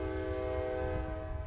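A passing train sounds a long, steady horn at an outdoor park, the tonal blast holding loud and continuous over a low rumble of railcars.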